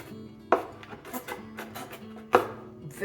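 An inexpensive, lightweight BravEdge kitchen knife chops vegetables on a cutting board. Two sharp, loud chops land near together with lighter knocks in between, and a faint voice murmurs in the background.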